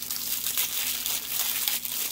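A plastic bag of accessories from a cheap Amazon clothing order crinkles steadily as it is opened, a continuous close rustle and crackle filling the whole stretch with no talking.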